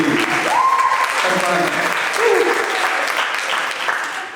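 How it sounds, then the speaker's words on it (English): Audience applause welcoming someone speaker onto the stage at a leadership talk, a steady, dense wash of clapping filling the room, with brief voices and cheers rising over it. "ladies and gentlemen, a big round of applause"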